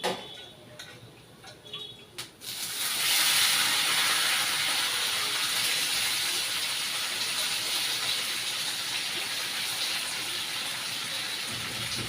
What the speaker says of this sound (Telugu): వేగాక దీంట్లోనే చికెన్ వేసుకోవాలి.